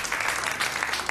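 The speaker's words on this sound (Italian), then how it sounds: "Se facciamo anche un applauso agli abitanti di questo paese." A crowd applauds the local townspeople at the Sardegna Incanta 2014 event, a short burst of dense, even clapping heard at moderate loudness.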